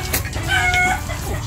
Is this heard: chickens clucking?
yes